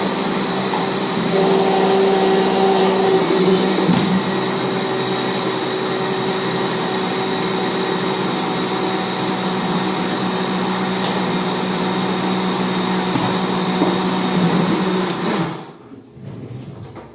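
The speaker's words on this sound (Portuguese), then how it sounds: "Se for necessário, desligue o liquidificador." A kitchen blender runs steadily, whirring and churning bacon, sausage and other ingredients with a loud, continuous motor drone that cuts off abruptly near the end.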